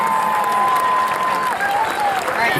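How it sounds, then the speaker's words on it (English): A crowd at a high school homecoming football game, Smith at Mount Tabor, applauds the 2017 homecoming court with loud, steady clapping and cheering that lasts throughout, with a thin sustained tone ringing over it. "Let's give our 2017 homecoming court another round of applause"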